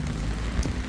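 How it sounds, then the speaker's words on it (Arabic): Steady morning rain falling in Larache, Morocco, a dense continuous hiss with low rumble throughout, close and unbroken, with no voices. "كنا نقلبوا على الشتا نصوروها"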